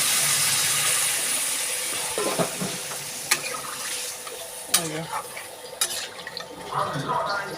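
Water poured into an egg and potato curry as it fries, heard as a loud broad hiss and sizzle that slowly dies down into gentler bubbling with a few sharp clicks of a utensil. No speech.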